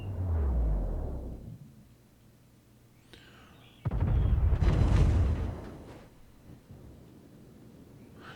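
Shell impacts and explosions on a warship in World of Warships, the Ohio under fire: a deep rumbling blast fades out, then a second heavy, loud burst of explosions roars for about two seconds before tailing into a low rumble.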